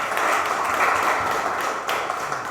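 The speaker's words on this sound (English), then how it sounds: "a huge round of applause to Prakash" An audience at a business event claps in a steady, dense wash of applause that fills the whole moment, with no voices over it.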